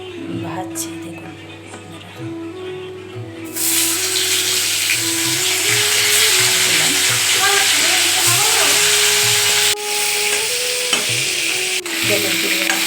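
Prawns frying in a hot pan give a loud, steady hiss that rises suddenly a few seconds in and stays broad and continuous, with occasional stirring, while someone talks over it.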